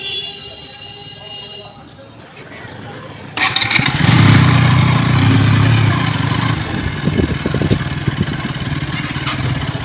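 A KTM motorcycle engine fires up after a brief quiet, catching abruptly and settling into a loud, close, choppy idle with people talking around it at a petrol stop.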